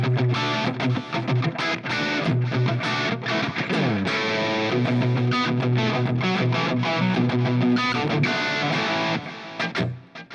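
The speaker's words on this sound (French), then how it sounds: "en permanence, vous avez du reverb. On l'entend, c'est ce qui donne l'effet pièce vide" Distorted electric guitar played through an effects unit with constant reverb and a tap-tempo delay, giving an empty-room ambience; dense chords and repeating echoed notes ring continuously before fading at the end.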